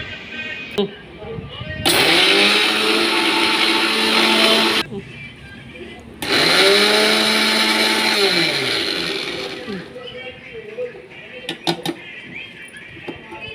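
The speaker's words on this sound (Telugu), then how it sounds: "వేసి మెత్తగా గ్రైండర్ చేసుకోవాలి" A kitchen mixer grinder whirs loudly through two long bursts as it grinds roasted sesame seeds into a fine powder for gongura chutney, with a short pause between runs and quieter handling noise after.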